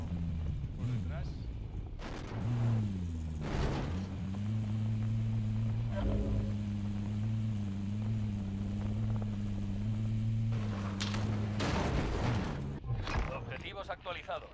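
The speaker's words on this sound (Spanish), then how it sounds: "Una moto por detrás." Motorcycle engine droning steadily behind the player in Call of Duty: Modern Warfare, a sustained low hum under gunfire bursts, sharp bangs and voiced radio chatter.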